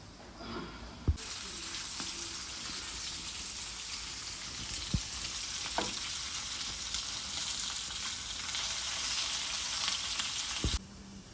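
Food being sautéed in a pan at home on a rainy day, a loud continuous frying hiss that starts abruptly and cuts off near the end, with occasional soft knocks of a stirring spoon.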